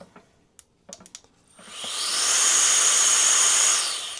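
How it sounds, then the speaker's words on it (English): Air blown to dry a Garmin Enduro 3 watch screen while fitting a screen protector: a few faint handling clicks and taps, then a loud, close, steady airy hiss that swells and holds for about two seconds. "We'll just dry it again, right? And we can blow some air."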